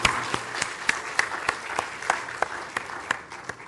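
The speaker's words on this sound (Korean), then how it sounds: "우리 하나님께 영광의 박수 올려드리실까요?" A church congregation at Sunday morning service claps together, brisk overlapping applause with sharp individual claps standing out, moderately distant.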